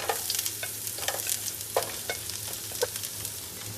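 Garlic frying in a pan for Kerala-style soya chunks varattiyathu, a steady close sizzle broken by repeated spoon stirring and scraping strokes, with no talking.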